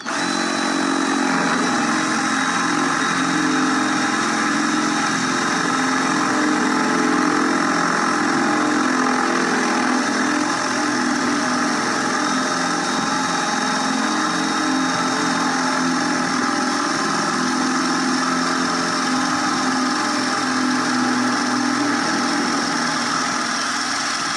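A steady, loud motorized whine like a power drill running continuously without pause, droning at an even pitch throughout.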